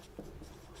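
A short, faint scratch of writing on a board during a maths lesson on trigonometric identities, a single brief stroke heard close and alone.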